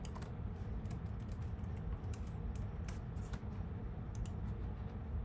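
A login password is typed on a computer keyboard, with quiet, irregular clusters of key clicks that arrive in short bursts over a low background hum.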